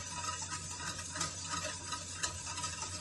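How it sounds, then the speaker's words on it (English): Butter being stirred into a thickening cream mixture in a pot, a steady scraping swirl with faint sizzling, continuous and close with no voices. "Continually stir it so it thickens up."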